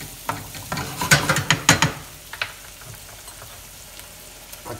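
Shrimp stewing in ranchero chili sauce in a pan, stirred with a few scraping, clattering strokes over a steady soft sizzle that settles into a quieter simmer, close up with no talking.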